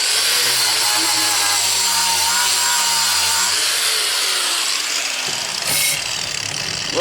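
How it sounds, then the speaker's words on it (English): A wire brush on an angle grinder scours a gas tank bracket from a 1985 Chevy K10, giving a loud, continuous scratchy hiss and rasping over the motor's hum, with a brief sharper scrape near the end. "So I got me a little wire brush on my grinder."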